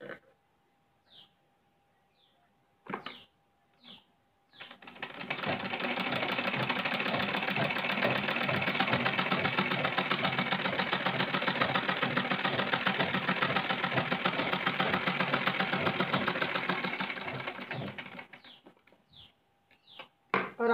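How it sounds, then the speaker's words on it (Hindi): A sewing machine stitches fabric in one long continuous run of about thirteen seconds, a loud, steady mechanical whir with fast rattling, framed by a few scattered clicks and knocks before and after. "अब चलो मैं स्टिच करती हूँ"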